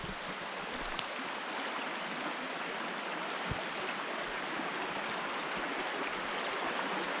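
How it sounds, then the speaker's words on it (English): Lepper Brook swollen after a big storm rushes steadily over small waterfalls, a close, continuous broadband hiss of flowing water with no voices. "there is some wonderful little waterfalls on this stretch of Lepper Brook"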